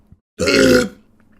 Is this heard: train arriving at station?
no